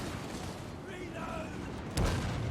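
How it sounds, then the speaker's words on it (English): Cannon fire in the video game Total War: Warhammer 2, a single heavy boom near the end over a steady roar of battle noise, with faint whistling tones drifting through the middle. "We have the cannon fire at the Forest Dragon."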